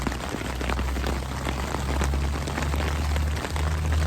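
Heavy rain pours steadily at a backpacking campsite, a dense continuous hiss of drops drumming on surfaces close by, with no talking.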